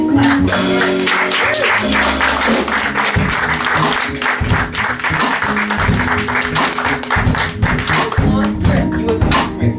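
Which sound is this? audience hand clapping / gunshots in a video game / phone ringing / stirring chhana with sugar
audience hand clapping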